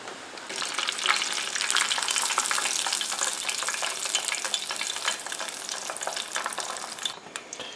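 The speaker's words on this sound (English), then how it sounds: "we can go ahead and start putting our chicken inside here." Breaded chicken fingers frying in a pan of oil, a dense, steady crackling sizzle that holds for several seconds up close before easing off at the end.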